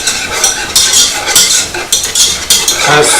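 Flour roux for enchilada sauce stirred in a pan over low heat, a utensil scraping repeatedly in rhythmic strokes with light sizzling underneath, close and fairly loud.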